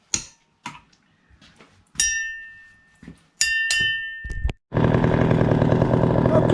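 A chainsaw fitted with a 28-inch bar starts and then runs loud and steady at high throttle for the final couple of seconds, after a few short sharp pulls and clicks.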